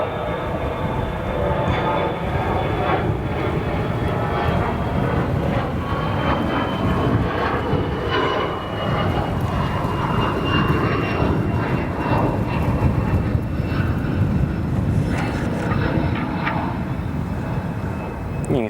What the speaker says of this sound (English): There's a CRJ 200 departure.